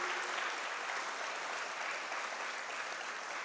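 Audience at a university freshers induction applauding in a steady, dense burst of clapping that carries through without pause.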